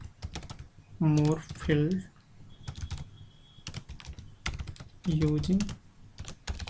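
Computer keyboard typing while writing HTML5 code, a steady run of close, quick key clicks heard under someone talking.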